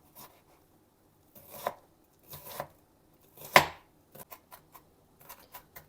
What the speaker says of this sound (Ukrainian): Треба мені надрібненько нарізати цибулю, дуже надрібненько.